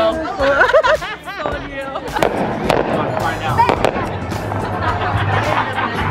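Fourth of July fireworks burst at an outdoor celebration, sharp pops and crackles rising over a loud crowd chatter and nearby voices talking throughout.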